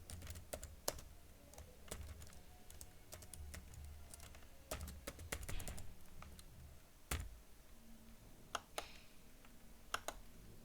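Close, quiet typing on a computer keyboard while writing a simple hello world program, with irregular bursts of key clicks and occasional sharper taps against a faint room hiss.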